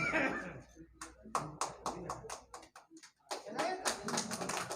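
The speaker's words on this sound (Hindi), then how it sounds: "ताली, जोरदार ताली से।" Audience members at a certificate ceremony after peaceful elections in Bhagwanpur block, Vaishali district, clap in uneven bursts of sharp, close hand claps, broken by short pauses, with a voice speaking at the start.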